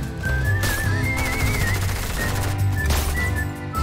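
Repeated gunfire from a game of Fortnite practice, with sharp shots coming in quick bursts over a steady background of game music and whistling tones, loud and close throughout.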